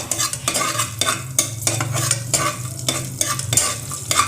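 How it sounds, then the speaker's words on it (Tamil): Mustard seeds, fennel and bay leaf frying in oil in a pressure cooker, a close, loud sizzle under quick rhythmic stirring strokes of a metal spoon, with no talking. "இது எல்லாத்தையும் வந்து நல்லா வந்து ஃப்ரை பண்ணிக்கிடணும்"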